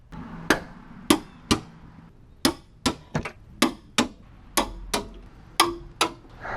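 Torque wrench clicking sharply while tightening car wheel bolts, about a dozen crisp metallic clicks in irregular pairs and singles, close and loud against a quiet background.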